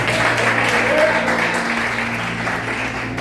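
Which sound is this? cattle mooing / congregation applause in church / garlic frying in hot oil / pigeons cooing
congregation applause in church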